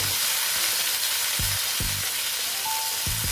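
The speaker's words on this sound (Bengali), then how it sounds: "আলুটাকে আমি ভালো মতন ভেজে নিচ্ছি" Potatoes frying in a pan with turmeric for a vegetarian banana-flower ghonto, producing a loud continuous hissing sizzle up close, with a few soft low knocks of stirring and no voices.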